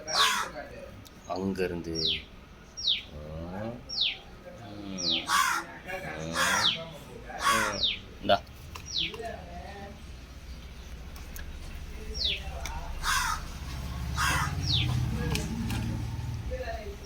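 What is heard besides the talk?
crows cawing for food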